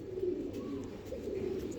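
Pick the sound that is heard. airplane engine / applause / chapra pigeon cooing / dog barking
chapra pigeon cooing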